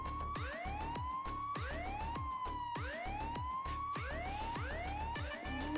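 An ambulance siren wails in a loud, steady cycle of rising and falling sweeps, repeating roughly every second with no break and no voices over it.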